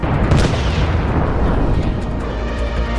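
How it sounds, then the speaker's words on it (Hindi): A loud, sustained boom with a dense rumbling roar that stays heavy for several seconds, like a large nearby explosion, from a drone grenade attack on a Russian military boat on water. "एक बड़ा धमाका होता है और उस नाव पर बैठे सभी सैनिक पानी में कूद जाते हैं।"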